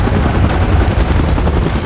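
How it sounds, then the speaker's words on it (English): A helicopter in a Kong and Godzilla versus Mecha Godzilla game throbs steadily with dense, loud rotor chop, heard alone and without pause. "Chopper in position."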